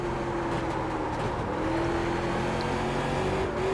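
A late model race car engine in the iRacing sim at Lanier National Speedway drones steadily at high revs, its pitch sliding slightly as it works through a corner, loud and continuous.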